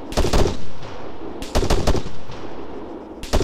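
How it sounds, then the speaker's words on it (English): Arma 3 heavy machine gun fire in a PvP battle, loud rapid bursts of automatic shots in three separate clusters, close and harsh, with no talking. "Machine gun."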